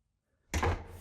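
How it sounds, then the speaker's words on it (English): A door being forced in, one loud heavy thud that cuts in abruptly after near silence and rings briefly, with no speech. "They're breaking down my door."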